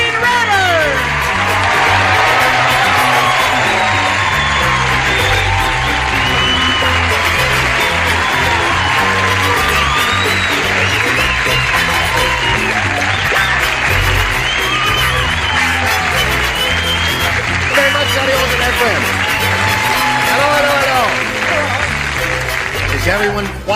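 A studio audience at the Match Game 76 game show applauds and cheers continuously, with loud whoops and yells layered over dense clapping throughout.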